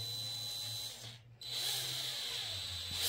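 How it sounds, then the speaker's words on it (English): A power drill bores head bolt holes in a bare LS6 engine block from a C5 Corvette, a steady close whine that cuts out briefly and then resumes at an even pitch. "Now we're ready to drill."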